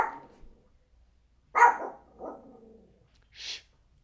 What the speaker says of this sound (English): dog's gonna mess up my shot again